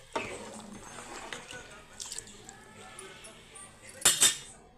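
A spoon stirs soaked rice into boiling coconut milk in a pot, with soft scraping and occasional metallic clinks against the pot, ending in a brighter clatter, under faint background sound.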